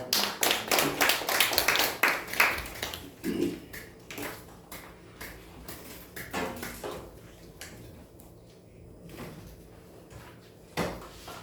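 After a Korean seminary lecture on Genesis, an audience claps in loud, sharp bursts that thin out into scattered claps and fade into quieter room sounds.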